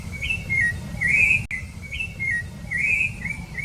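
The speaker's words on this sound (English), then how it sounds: "Rufusbellied thrush, Turdus rufiventris." A rufous-bellied thrush (Turdus rufiventris) sings clear, mellow whistled phrases, repeated in two similar runs over low steady background rumble.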